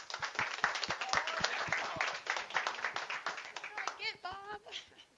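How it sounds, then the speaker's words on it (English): A meetup audience claps in a moderate round of applause with some laughter mixed in, and a voice talks over the clapping toward the end. "everybody else show them love. And we do that by giving them a huge round of applause."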